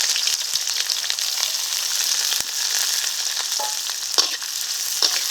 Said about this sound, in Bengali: পেঁয়াজটাকে এখন ভেজে নেব